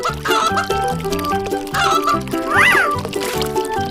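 A cartoon chicken clucks and squawks in short repeated bursts over a bouncy, tuneful music track, loud and close.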